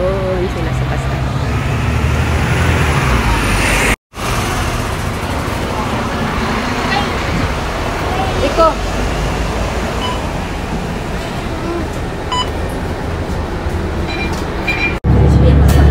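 Steady roadside traffic at a bus stop in Bangkok, Thailand: a continuous broad roar of passing vehicles with a brief cut-off near the start and a louder surge at the end, with voices around.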